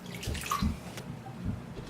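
Water is poured over a cow tongue in a slow cooker, a close, steady splashing and gurgling stream with a few bubbly drips, moderately quiet and alone without speech.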